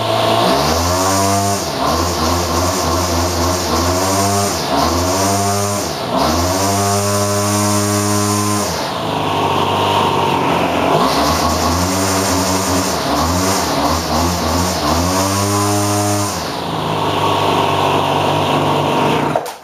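An old Craftsman weed wacker's small two-stroke engine runs steadily close by, revving up and dropping back to idle several times in a buzzing, harmonic drone with no talking.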